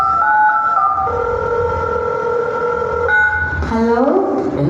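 Tonal phone ringback on an outgoing call, steady pitched tones that change step by step and then give way to a quick warbling sweep, up close with background hiss.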